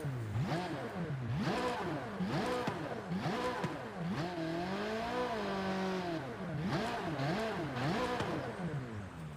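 Corvette C8R race car engine in Forza Horizon 5, revving hard through repeated rising and falling sweeps as gears shift, loud and close with a brief tire squeal, no talking.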